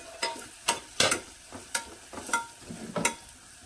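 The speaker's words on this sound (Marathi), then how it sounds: "कांद्याची आणि लसणाची पात चांगली परतून घेतली ना सगळं आरोमा चांगला उतरतो आता यामध्येच आहे ना हा गरम मसाला सगळा घालून घेतो" Onion, garlic greens and garam masala are sautéed in oil, giving a series of sharp scraping stirs of a spoon in the pan over a soft sizzle.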